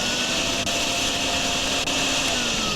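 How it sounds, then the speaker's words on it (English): Small vacuum sucking up water in the drain-cleaning game DrainSim, a steady loud whooshing whine with a faint hum, running continuously with a couple of brief dips. "we're just gonna try to suck the rest of this up with our little vacuum here"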